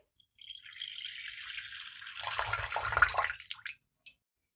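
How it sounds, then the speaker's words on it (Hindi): Juice being squeezed from oranges, a soft wet trickle and drip that builds into a fuller pour and splash, then stops with a final faint drop. "इसी तरह हम तमाम ऑरेंज का जूस निकाल लेंगे।"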